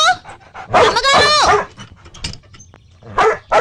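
A dog barks near a house, a loud burst of barking in the first half followed by another short outburst at the end, with a person's voice in between.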